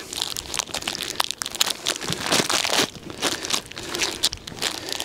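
Plastic crinkling and crackling up close in irregular bursts as the plastic bag around a block of baker's fondant is handled and pulled open for feeding honey bees.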